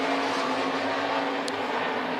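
Sprint cars at Crawford County Speedway roar around the dirt oval in a dense, sustained engine drone, loud and steady without a clear single pass.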